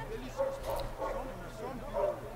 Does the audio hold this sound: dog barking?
yes